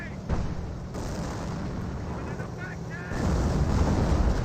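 Artillery barrage rumbles as a steady, dense low roar in the Company of Heroes war game, with a heavier swell of distant booms near the end under background battle noise.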